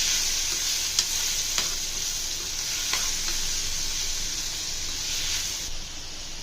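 Tomatoes sizzling in hot oil while being stirred in a pan for a bitter gourd fry, a loud steady crackle with a few sharp scrapes of the spoon, no voices.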